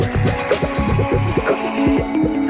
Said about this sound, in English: A pre-cut piece of cotton is slid into the space reserved for the gusset and automatically sewn